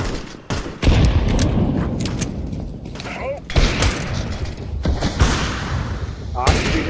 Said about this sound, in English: Flashbang out. Grenade out.